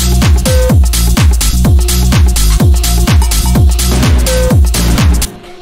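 A distorted, punchy percussion loop from a minimal tech house track, loud and driving with a steady repeating groove of heavy hits and a sustained tonal hum, cutting off abruptly near the end.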